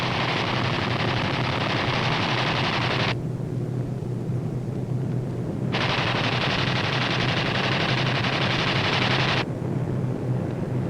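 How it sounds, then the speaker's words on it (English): B-25 bombers on low-level strafing runs fire their machine guns in two long, loud, sustained bursts, separated by a lull filled with heavy engine roar. "These B-25s are carrying out low-level strafing operations"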